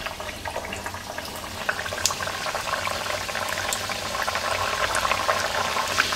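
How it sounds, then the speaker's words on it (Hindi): Mathri dough snacks frying in hot oil, a continuous dense sizzle and bubbling crackle, close and steady throughout with no talk. "चलिए फिर इन मटरियों को फ्राई कर लेते हैं हम।"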